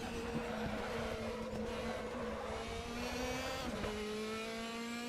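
A race car brakes hard and downshifts to second gear for the first hairpin at Zandvoort, its engine note holding a steady loud drone, then dipping and shifting pitch near the end as the gear changes.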